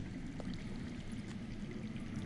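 A faint, steady rush of water flowing underground in a Game of Thrones video game, a soft continuous pouring hiss with no voices.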